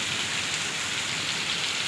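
Rain mixed with hail drums steadily on nearby surfaces, a dense, loud patter of drops with no pauses and no voices.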